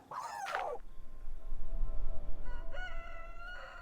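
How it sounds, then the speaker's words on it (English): A rooster crows loudly once at the start in a survival video game, followed by a steady tonal hum and a second rising electronic-sounding call near the end. "There's our rooster."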